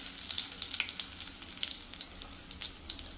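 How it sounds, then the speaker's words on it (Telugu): Mustard seeds, cumin and dried chillies sizzling in hot oil in a pan, a busy crackle of sharp pops and spits over a steady frying hiss. "ఆయిల్ హీట్ అయిన తర్వాత కొద్దిగా ఆవాలు, కొద్దిగా జీలకర్ర, 3 ఎండుమిరపకాయలు,"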